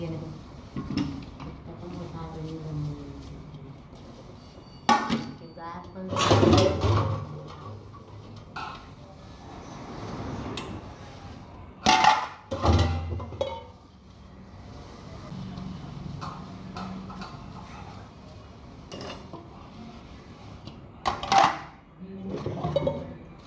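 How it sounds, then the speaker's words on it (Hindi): Dishes clatter and clink at a sink with running water, intermittent scrubbing and knocks of pots, and someone talking at times. "फिर मैं बर्तन मांजने जा रही हूँ।"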